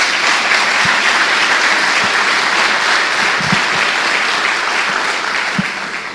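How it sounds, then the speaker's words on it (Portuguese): Congregation in a church bursts into sustained applause, dense clapping from many hands at steady strength that tapers slightly at the end. "Dê uma salva de palmas a Jesus."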